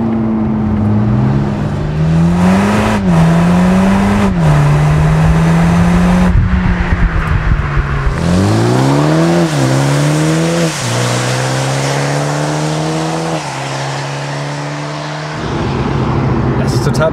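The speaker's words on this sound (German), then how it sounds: "man hört das Turbogeräusch sehr gut" Toyota GR Supra 2.0 four-cylinder turbo engine accelerating in sport mode, loud and close, with engine tone rising through several gear changes, including a tunnel stretch, and a brief whirring lift near the end.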